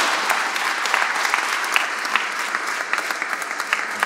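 An indoor audience applauds municipal councillors at a museum inauguration, a dense steady clapping that holds evenly from start to end.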